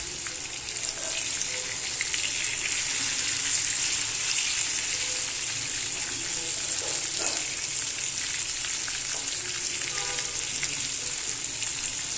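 Bangda fish sizzles steadily in a frying pan, a constant close hiss of hot oil throughout, with a few faint clicks and scrapes as the pieces are turned.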